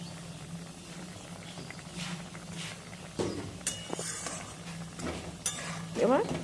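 Malabar spinach with pumpkin and sesame being stirred in a pan, soft scraping and clinks of a spatula against metal, intermittent and fairly quiet over a steady background hum, with a few sharper knocks toward the end.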